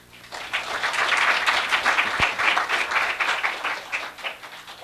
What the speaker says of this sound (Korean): 그러면 먼저 박수로 환영을 합시다.